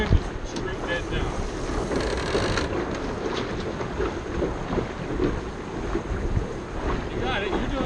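Constant roaring wind buffeting the microphone aboard a Flying Scot sailboat racing downwind, with water rushing along the hull beneath it and a voice faintly under the noise.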